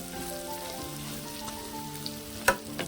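Chicken frying in a pan with masala and coriander powder, a steady soft crackling sizzle with a few sharper pops near the end.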